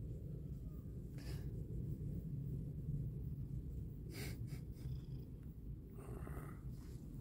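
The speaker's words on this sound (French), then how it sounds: "Il ronronne, non?" A cat purrs steadily and continuously up close, a low rumbling drone, with a few faint rustles and breaths over it.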